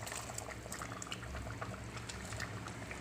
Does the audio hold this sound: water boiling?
yes